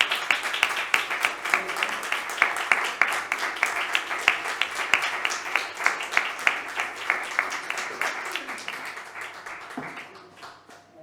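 A theatre audience claps in a steady, rhythmic beat, dense rounds of palms striking in time for several seconds before the clapping thins and fades at the end.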